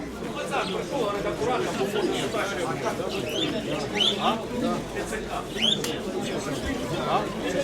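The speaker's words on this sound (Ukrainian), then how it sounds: "Дніпровські різні голуби, пташки" Various pigeons and small birds coo and chirp around a fair in Dnipro, Ukraine, their calls fairly soft beneath a steady murmur of crowd chatter.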